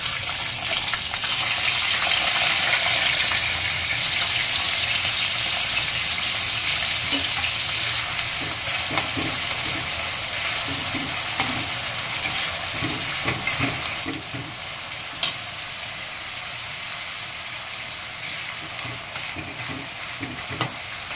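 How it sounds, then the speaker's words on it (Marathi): Chopped onion frying in hot oil for prawn biryani gives a loud, dense, continuous sizzle up close, with occasional stirring clatter and no voices. "कांदा असा आपल्याला चॉकलेटी कलर येईपर्यंत फ्राय करून घ्यायचा आहे"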